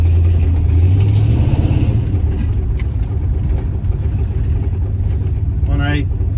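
1977 Chevy C20 truck engine idling while the distributor timing is turned, a steady low rumble with a slight dip in pitch early on, running under someone talking.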